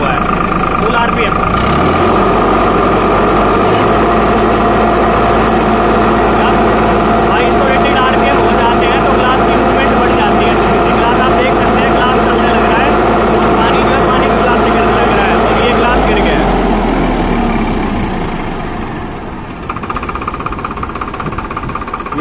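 A Farmtrac 60 tractor engine runs at full RPM, a loud, close, steady diesel roar with a knocking throb that holds for most of the time before easing down near the end.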